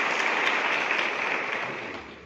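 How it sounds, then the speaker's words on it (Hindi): Applause from an audience at a government event in Gilgit-Baltistan announcing a police allowance, a steady wash of clapping that slowly fades over two seconds. "ये तालियां सिर्फ अलाउंसेस के अलाम पे होती हैं।"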